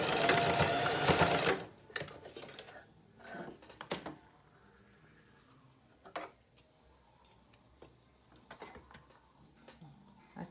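A sewing machine runs in one short, fairly loud burst, stitching a blouse strap in place with its adjuster slider, followed by faint clicks and handling noises.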